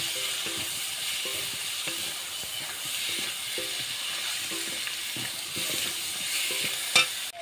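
Chopped banana stem sautéing in a pan with salt, turmeric, garlic paste and ginger paste, a steady soft sizzle with occasional stirring scrapes and a brief clink near the end.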